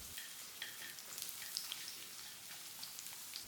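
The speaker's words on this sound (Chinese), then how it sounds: "姜片先下锅爆香" Ginger slices hitting hot oil in a wok, a soft continuous sizzle with scattered crackling pops, fairly quiet and steady throughout.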